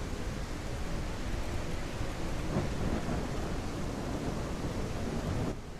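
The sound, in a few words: thunderstorm rolling in, from a video game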